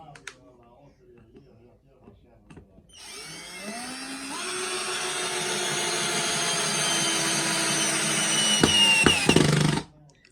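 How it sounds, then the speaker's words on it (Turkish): An Assur cordless drill drives a screw fully into a workpiece, sending out a loud steady whine with rising motor pitch that runs for about seven seconds and then cuts off with a few sharp clicks, after quiet handling noises at the start. "Arkadaşlar gördüğünüz gibi vidayı köküne kadar hiçbir zorlanma olmadan sapladı"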